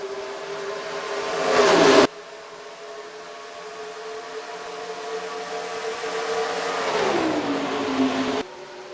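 Stock cars race at Texas in the NR2003 racing game, with engines whining steadily and a loud pass that swells, then cuts off, followed by a long sustained engine drone that dips in pitch, with no talk.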